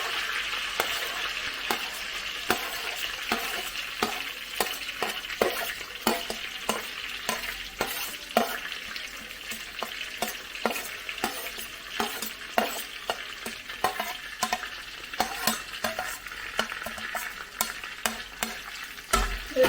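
Two large sliced onions sauté in oil in a pan over medium-low flame, a steady sizzle broken by frequent sharp scrapes and knocks of a spoon stirring, with no voices.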